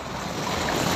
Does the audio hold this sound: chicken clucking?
no